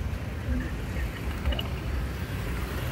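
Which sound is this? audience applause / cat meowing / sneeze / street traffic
street traffic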